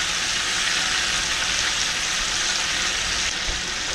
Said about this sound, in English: Is that bacon just sizzling away there right there?